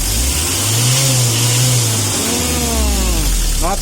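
A tuned Mitsubishi L300 engine revs loud and close, rising and falling through a couple of throttle sweeps with a rough, droning tone throughout.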